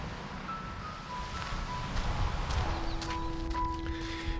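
Sea waves wash steadily near a pine forest, a soft continuous surf rumble with light wind, heard alone at moderate distance while faint tonal notes drift in the background.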